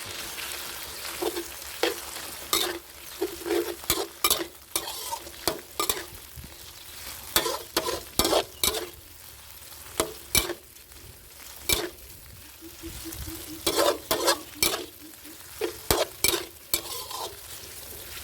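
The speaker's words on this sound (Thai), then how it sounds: "เสร็จแล้วก็นำเนื้อหมูที่เราหมักกับไข่ทิ้งเอาไว้ลงมาผัดได้เลยครับ" Marinated pork with egg stir-fried in a hot pan for wide rice noodles sukiyaki, a steady frying sizzle under repeated sharp scrapes and clanks of a utensil stirring against the pan, close and fairly loud, no talk.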